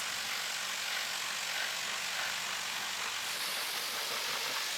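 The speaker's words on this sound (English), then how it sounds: "Blasting water directly into the engine bay." A pressure washer blasts water into the engine bay of an abandoned, crusty old car being restored, producing a steady, loud broadband hiss and spray with no pauses or talk.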